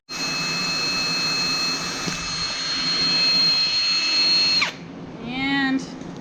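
A power drill runs steadily and loudly during an oil pump swap on a Honda K20A2 engine fitted into a K24, its high whine holding for several seconds before cutting off; a brief squeaky noise follows.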